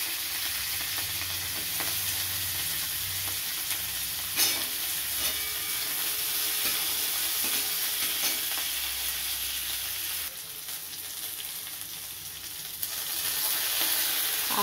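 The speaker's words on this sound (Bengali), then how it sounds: "এবার দিয়ে দিচ্ছি পেঁয়াজ কুচনো" Chopped onion hitting hot oil already tempered with dried red chilli and nigella seeds while cooking dum mushroom, giving a loud, steady close sizzle and frying hiss that runs unbroken throughout with occasional stirring.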